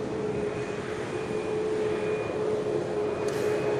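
A jet aircraft roars steadily at Manchester Airport, a loud sustained engine drone with a thin whining tone running through it, heard from a distance with no one speaking.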